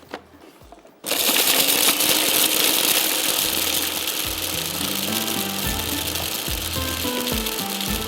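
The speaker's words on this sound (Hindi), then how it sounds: "इसको थोड़ा सा चॉपर को चला देना है" Electric food chopper whirring with ginger and butter inside, a loud steady motor drone starting abruptly after a second of quiet and running continuously with a slight wavering pitch.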